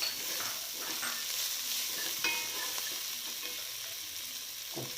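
Chicken roast masala sautéing in a pan with chopped coriander and mint leaves, a steady close sizzle with scraping stirs throughout.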